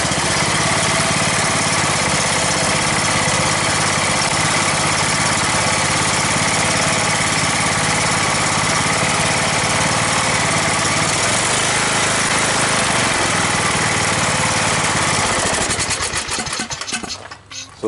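A Briggs & Stratton OHV engine on a riding mower tractor runs steadily and loudly at close range after its valves were adjusted, a continuous dense drone that cuts off near the end, with no talking.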